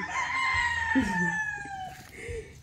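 Roosters crowing on a rooster farm, a long rising-and-falling crow held for about two seconds with shorter calls and clucks from other fowl nearby, fairly loud and close with no talking.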